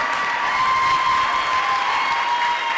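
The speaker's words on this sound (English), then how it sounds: "can we give just a giant round of applause to every candidate who came up here" An audience applauds for the candidates at a youth forum night show, a steady, dense wash of clapping with light crowd noise and no one speaking over it.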